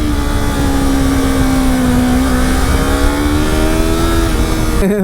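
Steady roar of a motorcycle ridden at speed, engine note holding nearly level and creeping up slightly, loud and near amid continuous wind rush, ending with a brief burst of noise and no speech.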